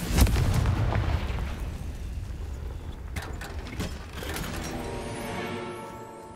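A Confringo blasting spell explodes in Hogwarts Legacy: a loud, heavy blast at the start fades into a rumbling tail, then a second sharp burst follows and settles into a quieter, crackling decay.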